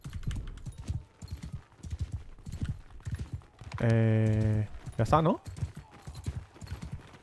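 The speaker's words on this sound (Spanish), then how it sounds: "Ya os conseguí unos caballos, gente." Horse hooves clop rapidly in Mount and Blade 2: Bannerlord, with a long, loud whinny-like call midway, all under near-continuous talking.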